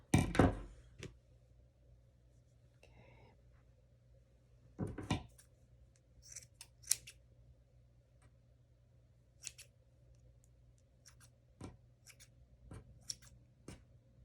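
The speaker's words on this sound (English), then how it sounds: "just kind of taking a chunk, trimming those ends" Scissors snip yarn ends one at a time while a Bernat yarn treat bucket is being made, giving sharp close cuts scattered irregularly across a quiet room with a low steady hum.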